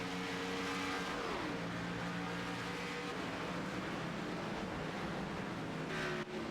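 A race car laps the Charlotte Roval road course in a racing video game, its engine holding a steady, loud drone with shifting pitch throughout, no voices over it.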